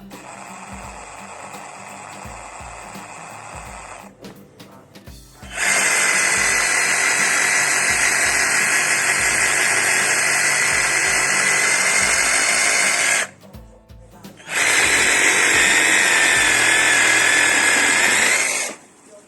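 A cordless reciprocating saw buzzes loudly in two long cutting bursts separated by a brief pause, with a quieter motor whine before the first cut.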